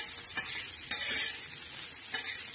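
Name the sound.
dried fish chutney frying in a pan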